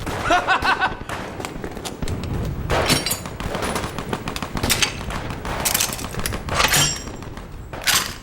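Heavy machine gun fire in a war film battle scene against Japanese troops at Pingxingguan: loud, rapid rattling bursts repeat in irregular volleys with sharp cracks, filling the whole stretch.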